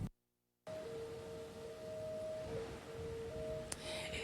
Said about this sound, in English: And you can hear the sirens still going off,